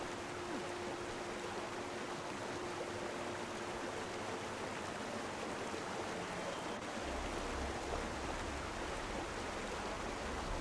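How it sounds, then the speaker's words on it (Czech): A large waterfall in the video game Guild Wars 2 roars as a steady, dense wash of rushing water, constant and fairly loud throughout, with a faint tone and a slight low rumble joining near the end. "To je velký vodopád."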